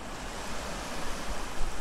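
Black Sea surf washes onto a Crimean beach, a steady roaring rush of waves with some wind noise on the microphone, no voices.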